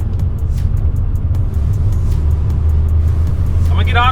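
Engine of a manual-transmission car pulling away and climbing from first into second gear, a steady loud low rumble with a brief dip as the clutch goes in, while someone talks over it.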